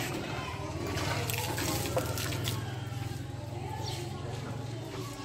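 Water poured out of a container onto the ground outdoors, a faint continuous splashing and trickle over a steady low background hum.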